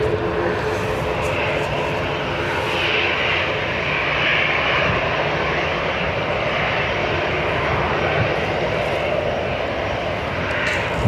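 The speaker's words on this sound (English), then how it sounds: "ATR coming, I can hear it" An ATR turboprop airliner approaches at Dublin Airport, its engine drone swelling slightly as it nears, a steady rumble with a faint propeller hum and no talking.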